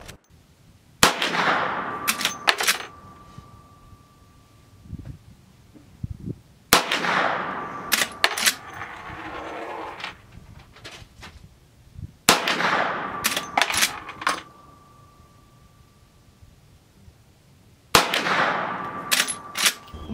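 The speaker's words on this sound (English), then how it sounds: "One thing about a lever action is it is so fast to shoot." Henry color case-hardened .357 Magnum lever-action rifle with 16-inch barrel firing outdoors, four loud sharp shots spaced several seconds apart, each with a ringing metallic ping and a decaying echo, no talking.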